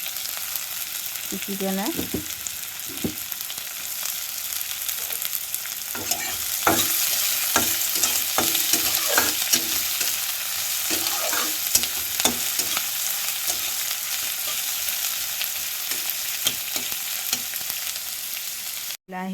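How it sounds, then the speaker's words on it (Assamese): Sliced onion and garlic fry in hot oil in a pan as a utensil stirs and scrapes, giving a continuous sizzle with frequent clinks. A voice speaks now and then over it. "তেল গৰম হৈ গ'ল। পিঁয়াজখিনি দি দিছোঁ, নহৰুখিনি দি দিছোঁ"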